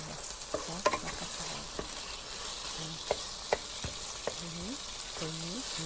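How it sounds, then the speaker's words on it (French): Yassa chicken frying in a pot while being stirred, with a steady sizzle underneath and intermittent scraping clinks and knocks of the utensil against the pan, close and moderately quiet. "En remuant de temps en temps parce qu'on ne veut pas qu'il colle dans la casserole"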